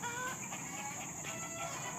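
Quiet clucking from free-range village chickens on a poultry farm mixed into a steady background hum, soft and somewhat distant.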